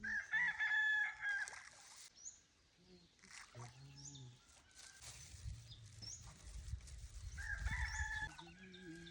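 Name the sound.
rooster crowing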